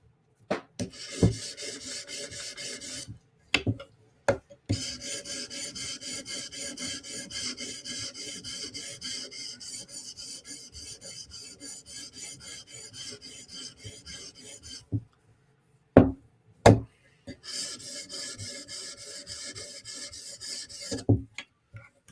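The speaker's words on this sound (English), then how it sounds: "We're gonna strop this by hand." A Bestech Tanto knife is stropped by hand: steady, even rasping strokes run in long stretches, broken by brief pauses and a few sharp knocks, close and fairly quiet.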